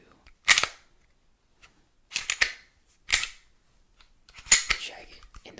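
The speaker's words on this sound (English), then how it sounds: "you could grab the slide and pull back" The slide of a Glock 45 pistol is pulled back and released, giving four sharp, close metallic clacks separated by near silence.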